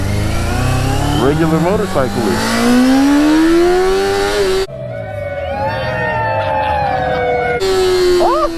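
A 1980s Yamaha motorcycle engine revs up and holds a rising mid-pitched drone, then idles and climbs again, loud and close, with people talking excitedly over it.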